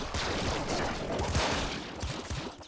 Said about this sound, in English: This plasma cannon is working wonders here.